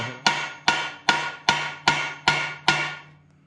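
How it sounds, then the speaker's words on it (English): A hammer strikes a rusted part on a 14 bolt axle for a Jeep LJ one-ton build, seven sharp metallic blows at a steady rhythm, each ringing briefly before the next, loud and close with no talking. "basically I took a hammer"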